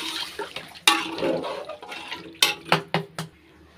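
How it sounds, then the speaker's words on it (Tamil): Water splashes and pours into a metal pot of rice in short bursts, with clanks of the vessel between pours, close by, while cooking brinjal biryani. "இப்போ வந்து தண்ணி சேர்த்துக்கிறேங்க"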